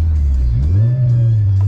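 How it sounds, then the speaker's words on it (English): A car pulls away on its first test drive after a new power steering pump install, the engine heard from inside the cabin as a loud low hum that rises briefly in pitch and then holds steady. "just gonna give it the first test drive there"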